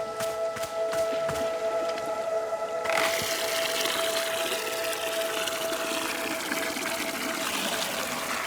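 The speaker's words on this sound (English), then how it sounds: "Water." Flowing water in the cosy video game Wanderstop, a steady gushing rush that swells in partway through over a soft tonal hum and continues evenly, fairly close with no talking.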